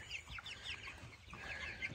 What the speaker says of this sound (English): we are moving the Cornish Cross chicks out into the chicken tractor for the first day